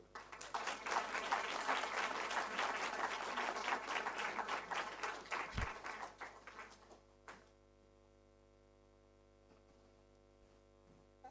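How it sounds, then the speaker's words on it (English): A book launch audience applauds loudly and steadily for several seconds, the clapping thinning and fading out, leaving a low electrical hum in a quiet room. "Let's keep the hands coming"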